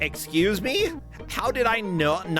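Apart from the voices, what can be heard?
No distinct noise like a dog, phone or traffic.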